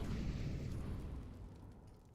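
A grenade bursting in Counter-Strike, a single low, loud boom that rolls away and fades over about two seconds.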